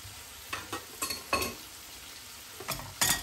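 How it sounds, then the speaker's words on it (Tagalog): Mung beans tumble into a hot pan for a Filipino salmon and monggo guisado, followed by several bursts of sizzling and stirring scrapes, with the loudest crackle at the end. "Lagay na natin yung munggo natin."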